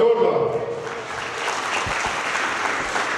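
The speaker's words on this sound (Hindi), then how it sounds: "ये भविष्यवाणी की जो तालियां है ये आप किसी के लिए नहीं, अपने लिए बचा रहे हो" A church congregation at a Christmas service breaks into sustained applause, a dense roomful of clapping with a speaker's voice carrying over it.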